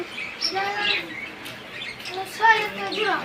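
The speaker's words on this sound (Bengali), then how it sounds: "এ পাখিটি কি ভাই কুকাটেল" Cockatiels in a bird shop giving short bright chirps and whistles in a few bursts, close and fairly loud, amid indoor shop ambience with faint voices.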